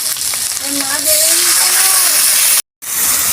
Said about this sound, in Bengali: এবার আমি অল্প একটু জল দেব